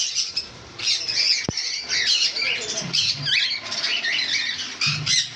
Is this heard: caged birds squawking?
yes